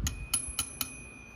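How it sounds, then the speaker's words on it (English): Four sharp metallic rings, evenly spaced about a quarter second apart, struck on the manual bell of a C&O GP-7 locomotive, each bright strike quickly decaying over a faint steady tone. "This, of course, is the bell and the bracket for the manual bell."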